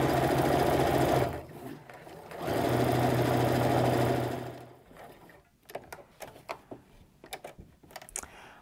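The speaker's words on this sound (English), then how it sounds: "Now we're going to sew that 1/4 inch seam or 1/2 inch seam." A sewing machine runs in two steady, loud stretches with a short pause between, stitching a 1/4 or 1/2 inch seam on a heirloom apron, followed by softer clicks and handling noises.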